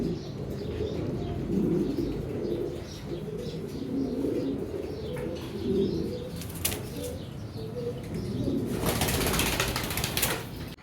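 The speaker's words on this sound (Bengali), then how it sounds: "এখানে একজোড়া বোম্বাই কবুতর দেখতে পাচ্ছেন, লাল টকটকা, খুবই সুন্দর" A pair of deep red Bombay pigeons in a loft, soft low cooing running throughout with a sudden loud burst of wing flapping near the end, close to the listener.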